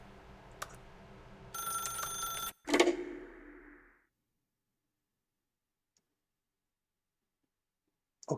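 A telephone rings in The Stanley Parable video game, a bright repeating electronic bell for a couple of seconds, then a clunk and a short fading tone before near silence.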